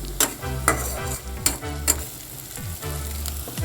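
Garlic and onion frying in a pan for green egg masala, a soft continuous sizzle broken by several sharp scraping stirs of a spoon against the pan.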